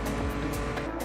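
Race cars accelerate hard in a Formula Student sim racing video game. Their engines sound loud and close in a dense, continuous roar for about a second.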